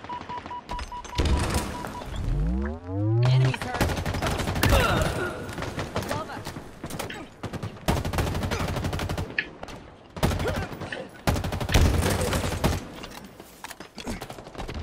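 Halo Infinite multiplayer gunfire crackles in dense rapid bursts alongside a rising sci-fi whoosh and thuds, with a player talking over the loud, continuous firefight.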